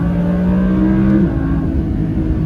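An Audi R8 V10 Plus supercar accelerates hard in second gear in manual mode, a loud, close engine roar with a steady rising tone that shifts abruptly partway through, then keeps pulling with a dense, rough growl.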